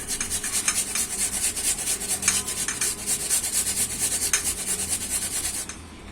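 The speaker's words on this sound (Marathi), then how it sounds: "तो असं किसून घ्यायचा. कुठच्याही किसणीने किसा. मी हे जाड्या किसणीने किसले." Watermelon peel is rubbed against a coarse kitchen grater in quick, even back-and-forth strokes, a close raspy scraping that repeats about a dozen times before stopping.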